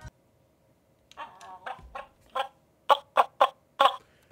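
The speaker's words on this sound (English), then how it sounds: "you have to not have the chicken on your square when it clucks" A toy chicken from a children's board game gives a series of electronic clucks, starting in irregular bursts and ending in four sharp, evenly spaced squawks, close and fairly loud with no talking.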